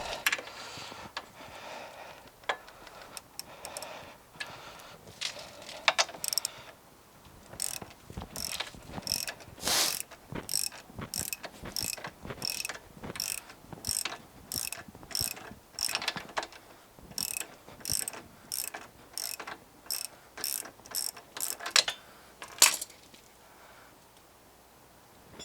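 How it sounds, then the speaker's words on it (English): A ratchet wrench loosening the 15 mm brake caliper bolts on a Can-Am Maverick Sport XRC, with rapid close clicking bursts repeated in a steady back-and-forth rhythm, each stroke ending in a short pause. "we're going to loosen the caliper bolts"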